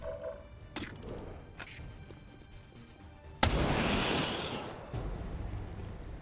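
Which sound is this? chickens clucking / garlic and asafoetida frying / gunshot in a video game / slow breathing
gunshot in a video game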